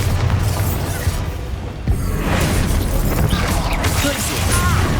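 Bombarda blast spell in Hogwarts Legacy, a loud booming explosion amid dense combat noise, with a sharp impact near two seconds and continued rumbling crashes, voices heard in the fight.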